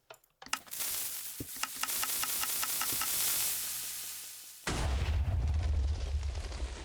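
A loud burst opens into a sustained fizzing, crackling roar with rapid popping, then cuts to a deep rumbling boom, like video game explosions, from a TNT cannon firing in Minecraft with TNT gravity removed.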